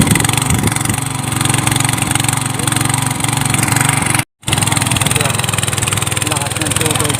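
An irrigation water pump engine, fitted with an extension pipe, idles loudly and steadily with a constant droning rumble, briefly cutting out for a moment before running on; a voice speaks over it.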